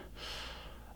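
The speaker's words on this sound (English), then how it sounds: "it just sounds like heavy breathing" Heavy, gritty breathing texture within a music track, a sustained breathy rush filling about a second over a low pulsing bass, with no talk.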